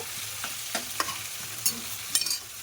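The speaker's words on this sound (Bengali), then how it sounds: "চলো আলুটা ভেজে নিই" Potatoes fry in a pan with a soft steady sizzle, broken by a few sharp scrapes and clinks of stirring, fairly quiet and close.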